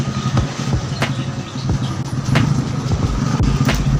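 A Honda Wave 125 motorcycle engine with a slight tappet noise runs steadily close by, its low rumble broken by sharp, irregular clicks and ticks.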